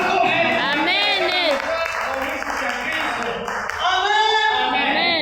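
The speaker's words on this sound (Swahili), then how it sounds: "Yesu makofi." A church congregation claps for Jesus in a loud burst of applause beneath raised, ringing voices of people calling out and praising.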